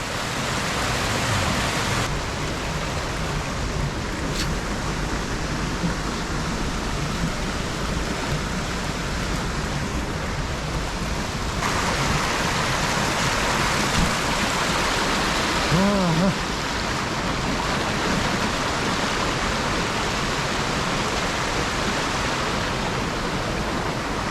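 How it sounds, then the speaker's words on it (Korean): Dry Creek Falls in winter roars steadily as a close, loud, continuous rush of falling water, with no pauses through the whole stretch and a brief faint voice partway through. "저 앞에 보이는 폭포가 드라이 크릭폴입니다."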